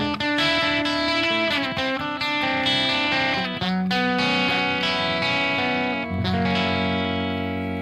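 Clean electric guitar played through reverb, strummed chords and ringing single notes with a lush, echoing tail, loud and close throughout with no talking over it.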